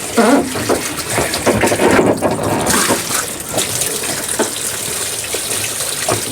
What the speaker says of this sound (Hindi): आप ऊपर से मग के ज़रिए भी एहतियात से जो है वो पानी डाल के ड्रम को जो है वो क्लीन कर सकते हैं